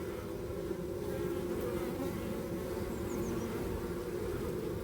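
A dense, steady buzz of many honey bees at a hive entrance close by, continuous and unbroken, with no talking.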